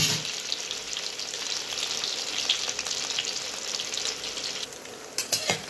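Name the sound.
paneer pieces frying in hot oil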